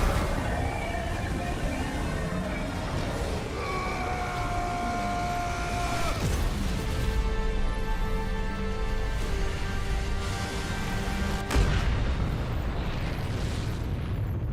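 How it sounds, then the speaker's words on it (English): Flame rockets blast off in Final Fantasy XVI: a sustained, loud fiery roar with whining tones over the top, and heavier bursts partway through and near the end. "flame rockets blasting off again"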